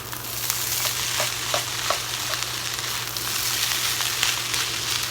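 Fried rice with sesame oil stirred in a pan, a steady close sizzle with a low hum beneath and light scraping strokes scattered through, no voices.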